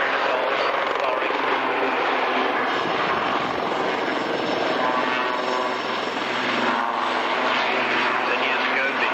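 A helicopter at the Woodford Airshow in 1995 makes a loud, continuous roar of rotor and engine that fills the whole stretch, with a commentator's voice running beneath it.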